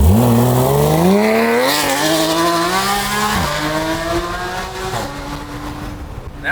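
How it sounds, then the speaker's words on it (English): A sports car's exhaust rises and falls with gear changes as it is driven, loud and close, harmonic pitch sweeping upward through each gear before dropping at the shifts. "I love hearing the exhaust on this thing."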